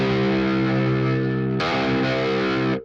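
A sustained open low E rings out on a heavily distorted metal guitar in standard C tuning, droning steadily before the tone abruptly brightens and thins partway through, then cuts off.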